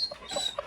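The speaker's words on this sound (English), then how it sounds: "They're both retired race dogs" A retired greyhound race dog whimpers in short, soft high whines, two or three brief cries close by in a quiet room.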